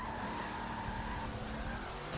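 Tires skid and squeal under hard braking as a race car slows in Forza 7, a steady smeared screech over engine drone, heard faintly in the background without talk.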